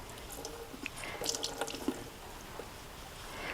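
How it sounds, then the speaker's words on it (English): Sauerkraut juice and rinse water drip and trickle into a kitchen sink as shredded sauerkraut is twisted and wrung out by hand, a soft, close, irregular patter of drops with a faint running-water wash throughout. "I'm just going to twist it over the sink. It's to get the excess sauerkraut juice out and the water that I rinsed it with."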